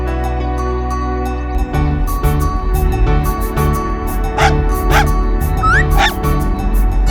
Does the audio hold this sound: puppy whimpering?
yes